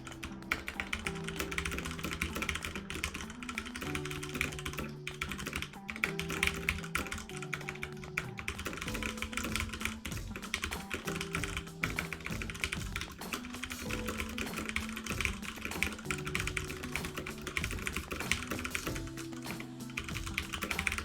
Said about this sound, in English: I'm gonna do a quick type race.